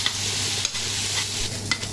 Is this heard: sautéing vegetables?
yes